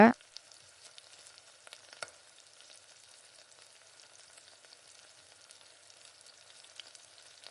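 Kara kuzhi paniyaram frying in oil in a paniyaram pan as the dumplings are turned, a steady soft sizzle with a brief scrape at the start and another around two seconds, alone without talk.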